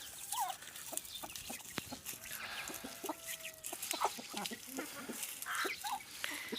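Several chickens cluck and squawk nearby in scattered, overlapping bursts in a farmyard with ducks, with faint farmyard background noise and occasional low voices.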